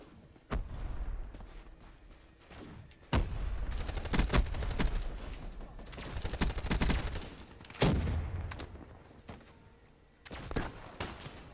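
Video game gunfire comes in repeated bursts and sharp single shots, spread across the stretch with brief lulls between volleys, fairly loud and close.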